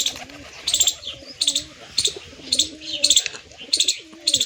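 Pigeons in a breeding loft give soft, rolling coos in repeated phrases, close and fairly quiet, with some higher chirps and light rustling between calls.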